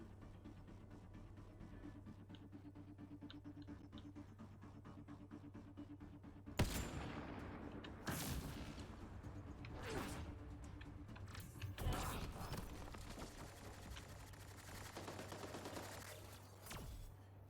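Repeated bursts of gunfire from a weapon in the sci-fi shooter game Mass Effect Andromeda, loud sharp blasts in irregular clusters over a steady low hum of game ambience, no talking.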